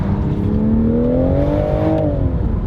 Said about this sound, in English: It's like a baffled exhaust note. Like it's muffled, and then you've got the crackles and pops that are happening